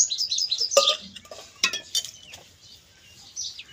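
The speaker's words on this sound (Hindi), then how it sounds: "बर्तन धो लीजिए" Sporadic clinks and clatters of dishes, pots and utensils being washed in a Pakistani village, with light scraping and faint bird chirps in the background.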